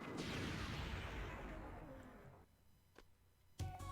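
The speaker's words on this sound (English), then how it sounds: "those explosions do huge damage and can kill you" An enemy self-destructs in Mega Man Zero with a booming game explosion that decays slowly, followed by smaller sharp blasts and effects, with someone talking over the tail.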